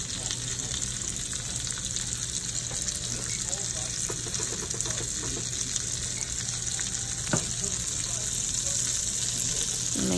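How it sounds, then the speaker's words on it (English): Mahi-mahi pieces searing in oil or butter in a pan, a dense, continuous loud sizzle and crackle throughout with a faint clink near the end, heard up close with no talking. "Make sure that oil or butter is under all the pieces so that they get a good sear on each side"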